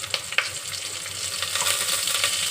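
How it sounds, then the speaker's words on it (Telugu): Two spoons of ginger paste sizzle and fry in hot oil in a pan for a Telugu eggplant bagara rice dish, a close, steady crackle with a couple of sharp spoon stirs near the start. "కొంచెం ఆయిల్ ఫ్రై అయిన తర్వాత అల్లం పేస్ట్ వేసుకోవాలి."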